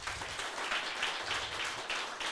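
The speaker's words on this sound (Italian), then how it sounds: "Facciamo un bel applauso a Gesù" A church congregation applauds during an Italian evangelical service: continuous hand clapping from a crowd, soft and somewhat distant, holding steady without a break.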